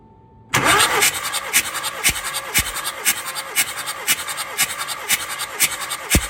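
A car's failing motor cranks over and over, giving a loud run of rhythmic, scratchy starter bursts that never settles into a steady idle, with no voices.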